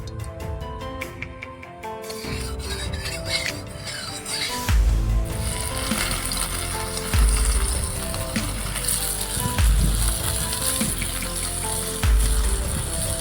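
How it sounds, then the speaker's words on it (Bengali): Soybean chunks fry in hot oil in a village kitchen, a steady bright sizzle that swells after a few seconds, with ringing metallic clinks at the start and repeated low thuds of utensils against the pan. "তো এখন কড়া গরম হয়ে গেছে, তেল দেওয়া হচ্ছে। সয়াবিন বড়িটা একটু ভাজা হবে।"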